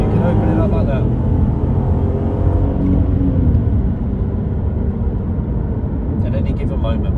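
Audi TT V6 sports car pulling away on a winding country road, a deep steady engine roar and rumble filling the cabin throughout, with someone talking over it.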